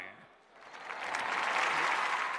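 An audience at a mixed martial arts cage-fighting event applauds a Kazakh fighter from China. The clapping swells from a faint start into sustained, dense applause.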